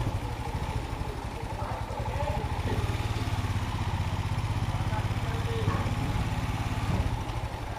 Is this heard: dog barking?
no